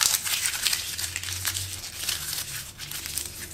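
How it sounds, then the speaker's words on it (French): A sheet of paper crumpled close to a RØDE VideoMicro microphone, giving a continuous dense crackling and crinkling that runs steadily for several seconds with no talk. "Et lorsque je froisse la feuille."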